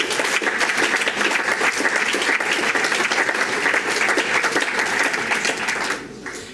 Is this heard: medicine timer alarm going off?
no